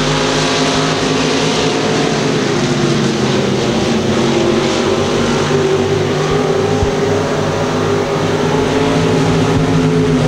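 Dirt track race cars roar around an oval at Thunder Hill Speedway during a heat race, several engines droning loud and steady with layered rising and falling pitches as the pack passes through the turns.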